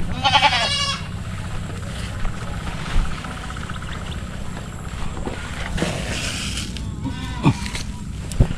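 Goats kept under a farm shed give a loud, close, quavering bleat at the start, then a few fainter calls follow over a low, steady mechanical rumble.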